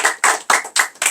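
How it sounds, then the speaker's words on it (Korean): A church congregation claps in a quick, even rhythm, five sharp rounds of applause in just over a second, close and loud with no talking. "박수. 아멘. 박수."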